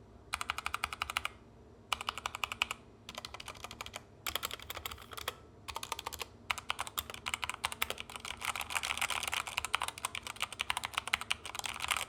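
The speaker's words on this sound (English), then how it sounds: "Here's the sound test, take a listen." Rapid typing on a linear-switch mechanical keyboard in bursts separated by short pauses, close and fairly quiet, with crisp clacking keystrokes.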